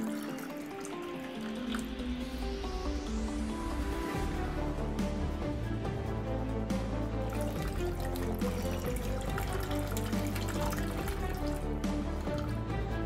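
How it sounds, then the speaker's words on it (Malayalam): Tender coconut water poured into a bowl, a continuous trickling and splashing fill with rising pitch as the vessel fills, close and steady over background music, with no speech. "നമുക്ക് തേങ്ങയുടെ വെള്ളം, ഇളനീരിൻ്റെ വെള്ളം ഒരു പാത്രത്തിലേക്ക് ഒഴിക്കാം."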